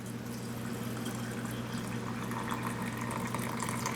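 A steady, gentle stream of brine pours continuously over onions in a jar, a soft low wash with faint splashing throughout.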